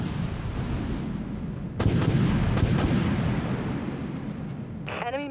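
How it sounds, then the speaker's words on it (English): Missiles launching from silos aboard a warship in the Dreadnought space combat game, a sudden loud burst of roaring blasts cutting in over a rumbling engine bed, then fading, with a brief chime near the end. "All silos launch missiles."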